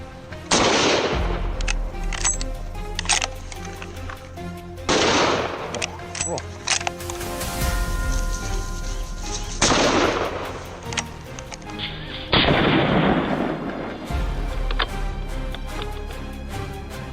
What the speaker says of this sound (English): One shot after another found their marks, cutting off all escape routes.